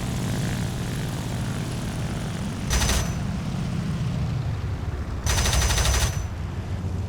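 Two bursts of rapid gunfire from an La-5 fighter plane in War Thunder, each about a second long, ring out over a steady, droning propeller engine.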